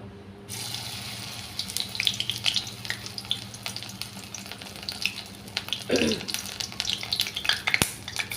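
Lentil paste fritter batter with salt, turmeric and black cumin dropped into hot oil, giving a steady bubbling sizzle with a brief sharper burst midway and occasional clinks.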